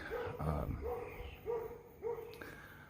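Dogs bark in Thailand in several sharp, fairly close barks spaced roughly half a second apart, over a low background hum.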